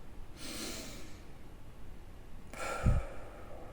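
A deep breath taken close and quiet: a soft, airy inhale, a pause, then a longer, fuller exhale with a slight nasal snort in it.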